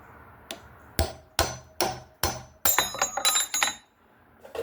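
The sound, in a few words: hammer tapping out a drill bit held by friction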